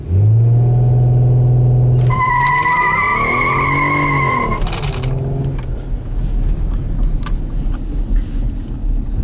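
A 2010 Kia Sedona minivan makes a hard launch: a steady loud engine drone gives way to screeching tire squeal and rising revs, then a continuous rumbling roar.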